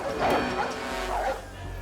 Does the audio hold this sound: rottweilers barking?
yes